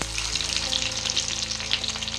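Garlic frying in hot oil with mustard seeds that have already popped, a steady loud sizzle with crackling spatters throughout, close up and with no talking.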